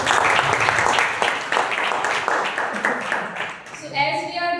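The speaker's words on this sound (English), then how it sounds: "So can we have a big applause?" Audience at an international Toastmasters speech contest giving a round of applause, dense sustained clapping that eases off near the end as a voice begins speaking.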